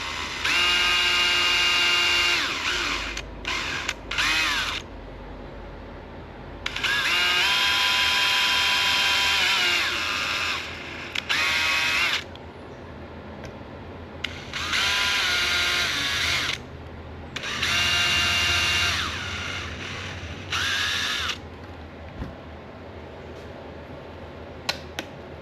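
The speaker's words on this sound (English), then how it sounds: "So I just drilled a 1/16 inch hole" Power drill boring a 1/16 inch hole, several loud whining bursts of a few seconds each separated by short pauses, close by with no talk over it.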